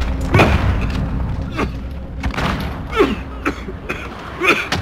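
Heavy booms and thuds from an enemy cruise missile strike in Call of Duty Modern Warfare, several dull impacts spread across a noisy battlefield din.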